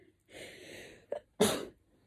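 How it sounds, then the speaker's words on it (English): A person sneezes while planting a bonsai kit: a sharp intake of breath, a brief catch, then a loud burst of sneeze close to the microphone, with quiet surroundings before and after. "Don't sneeze in the middle of a pandemic."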